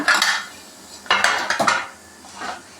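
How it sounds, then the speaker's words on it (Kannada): Metal plates being set into an idli steamer over boiling water, with several clattering clinks and scrapes of metal on metal, close and fairly loud, spaced irregularly. "ಈಗ ಒಂದೊಂದೇ ಪ್ಲೇಟ್ ಇಟ್ಕೊಳ್ಳೋಣ"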